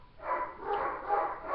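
A few faint dog barks and yips sound in the background, soft and somewhat distant.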